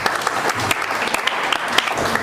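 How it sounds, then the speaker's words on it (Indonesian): A church youth congregation breaks into steady, dense applause, the many hands merging into a close, sustained wash of clapping with a few sharper claps poking out. "Berikan dulu tepuk tangan."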